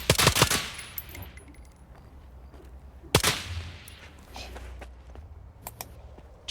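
Gunfire in the video game Stalker 2, a loud cluster of shots at the start and a single sharp shot near the middle, with quieter clicks, shuffles and footsteps between them.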